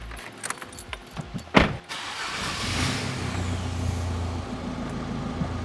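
A Mitsubishi Lancer Evo 10 with a swapped engine cranks and catches after a few sharp clicks and clunks, then settles into a loud, steady idle rumble that continues close by with no talking.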